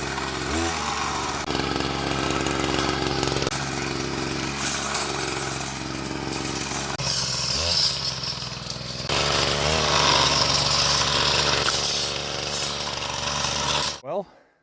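An old lawn mower salvaged from the dump runs loud and close with a rough, rattling engine drone that shifts as it moves, ending with an abrupt cutoff; a voice is also present.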